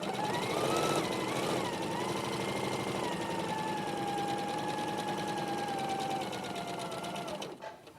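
A sewing machine runs steadily, stitching a quarter-inch seam. The needle chatters fast and evenly with a whining motor tone, loud and close, then stops near the end.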